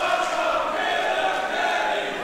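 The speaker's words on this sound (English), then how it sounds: "And listen to this crowd." Wrestling crowd at a women's pro wrestling match roars in a steady, dense wall of cheering and shouting that fills the arena.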